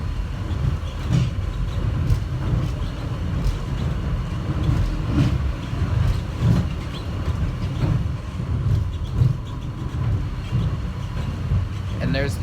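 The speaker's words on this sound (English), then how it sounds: "And there's the other train again." A subway train rolls past during a ride on an airport people-mover line, a rumbling pass with rhythmic clatter heard from inside another moving car, moderately loud and mixed with cabin noise.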